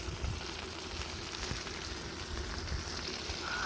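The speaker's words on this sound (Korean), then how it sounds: "안에서 막 지글지글 끓고 있습니다." Steady crackling and sizzling of a whole pork belly roasting in a camper van oven, a dense continuous hiss with faint pops, heard up close without any talking.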